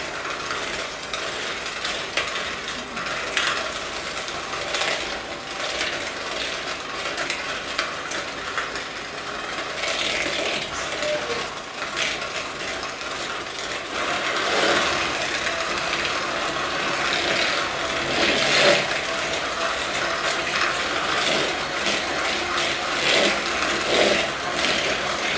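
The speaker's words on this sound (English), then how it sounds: "what I'm going to do now is mix this, excuse me, with the electric mixer" Electric mixer beating chocolate chip cookie dough, a continuous loud whirring drone that runs steadily throughout with slight shifts in tone as the beaters work the dough, no voices.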